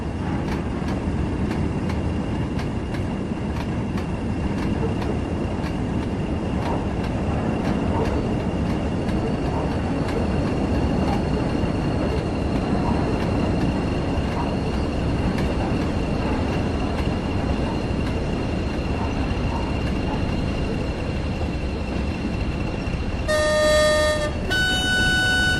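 Simulated coal train rolling along in Train Sim World 6, a steady loud rumble of wheels and wagons throughout, with a short high whistle or horn toot near the end.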